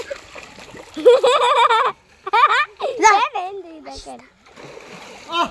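Water splashes and slaps as someone bathes in a pond, close and lively bursts mixed with a person talking continuously over them.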